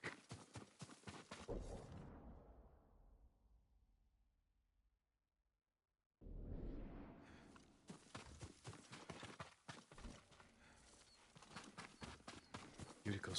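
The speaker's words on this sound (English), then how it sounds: "Yuriko's horse. She can't be far." Horse hooves clip-clopping in the PS5 game Ghost of Tsushima, a run of close, rapid hoof beats that fades to silence, then resumes loudly with a busy rhythm.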